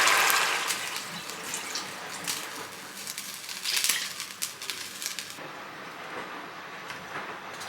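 Water pours and splashes into a cooking pot with potatoes, a dense close rush that swells and ebbs for several seconds before thinning out.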